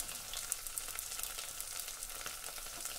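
Cauliflower, carrot, capsicum and beans sauté in a pan with a soft continuous crackling sizzle, faint and even, with no voices over it.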